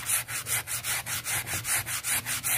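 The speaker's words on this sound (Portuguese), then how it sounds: "vão esfregando aonde tá sujo, com ferro morno, e depois vai passando no pano" A warm clothes iron is scrubbed back and forth on cloth to remove grime, a fast rhythmic rubbing of about a dozen even strokes, close and steady, with no talk.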